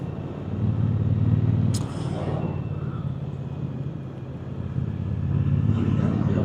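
A Triumph T120 motorcycle rides through a village at around 50 km/h, a steady, close engine drone with road rumble that swells and eases slightly throughout.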